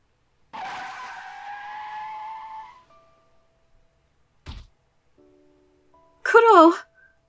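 Car tires skid in a long loud screech in a video game, followed by a short thud of the impact and a brief electronic chime, with no talk over it.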